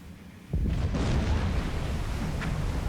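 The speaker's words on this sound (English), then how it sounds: "Uh-oh, we heard an explosion" A deep, rumbling underwater explosion from the Silent Hunter 4 submarine game booms in suddenly about half a second in, then lingers as a long, low, heavy roar.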